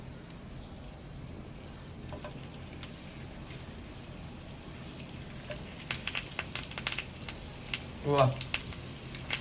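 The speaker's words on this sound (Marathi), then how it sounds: "तर तेल आता गरम झालंय. आता आपण ह्याच्यात जी भरलेली भेंडी होती ती टाकूया." Stuffed okra (bharli bhendi) dropped into hot oil in a home kitchen: a faint, steady crackling sizzle that grows busier toward the end, with a brief burst of clatter and a short spoken word.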